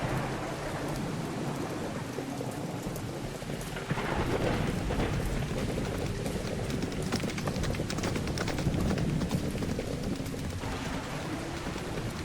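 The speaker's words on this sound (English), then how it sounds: "That horse appears to be running a lot faster than the carriage would entail." In the horror video game Vampire Mansion, a horse gallops while pulling a carriage, rapid hoofbeats under a steady rumbling, rain-like wash of storm ambience that persists throughout.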